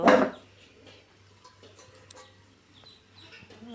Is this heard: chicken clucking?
yes